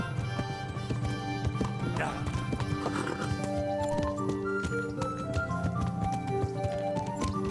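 A horse in the medieval video game Kingdom Come: Deliverance clip-clops at a rhythmic gallop, hoofbeats steady and close with a whinny, over game music with sustained tonal notes.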